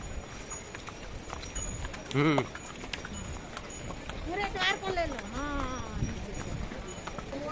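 Horse hooves clop along in an uneven rhythm at moderate distance on the pilgrimage route to Yamunotri, mixed with outdoor background noise, tonal calls and people talking nearby.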